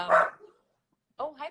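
Puppies bark in two short bursts separated by a pause of about a second, fairly close and moderately loud, with no talking.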